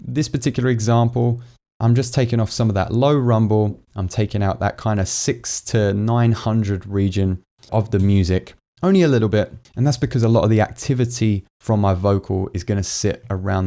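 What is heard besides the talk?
No distinct noise like a dog, phone or traffic.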